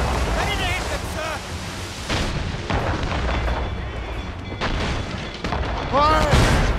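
Ship cannons fire in a naval battle in Assassin's Creed Rogue, a run of heavy booming blasts in quick succession over a constant roar of wind and sea, with shouted crew voices mixed in.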